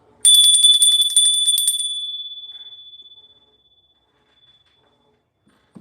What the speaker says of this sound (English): I'm gonna ring the bell, y'all.